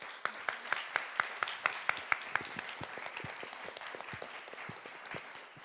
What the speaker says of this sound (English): Let's have an applause.